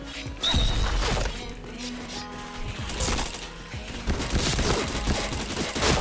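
Rapid gunfire from the VNC weapon in the shooter game Point Blank, bursts of crackling shots and impacts over a busy game soundscape, with a faint voice in the background.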